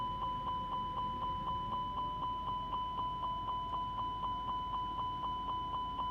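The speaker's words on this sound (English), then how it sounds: "I was wondering why I was beeping. Didn't even put the gears down." Landing gear warning in Microsoft Flight Simulator 2024, a rapid, evenly repeating electronic beep pulsing steadily and fairly quietly over a low cockpit hum, with no talking.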